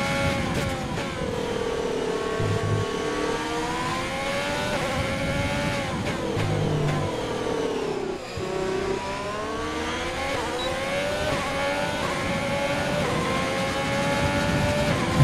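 A formula car engine in F1 2020 on a qualifying lap at Austin, screaming high and steady with rising and falling revs through gear changes, loud and continuous with no talk.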